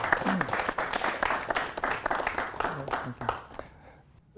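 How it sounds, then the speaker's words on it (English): A class audience claps for an arriving presenter, with brisk, fairly close applause thinning out toward the end and a voice heard faintly underneath. "please clap for him"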